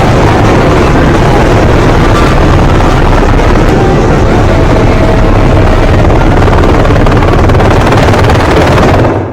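A helicopter roars continuously and very loudly at close range, its dense rotor chop and engine noise filling the whole stretch without pause, with no voices heard.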